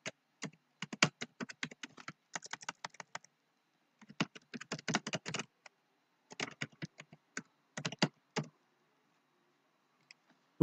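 Typing on a computer keyboard, close and fairly quiet, comes in quick bursts of crisp key clicks separated by short pauses, with no voice over it.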